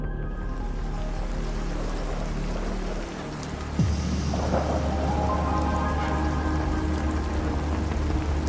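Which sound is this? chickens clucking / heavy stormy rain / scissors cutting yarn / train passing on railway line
heavy stormy rain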